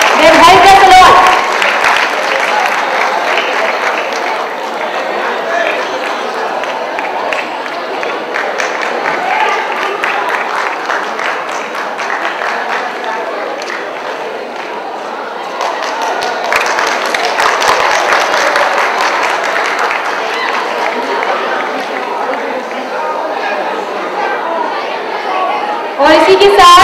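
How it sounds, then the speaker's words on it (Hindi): A crowd at a stage play staged for a Hindi fortnight event at IIMC claps loudly and without pause. The applause swells twice, and voices talk and chatter over it. "तालियां एक बार जोरदार हो जाए इनका उत्साह और मनोबल बढ़ाने के लिए।"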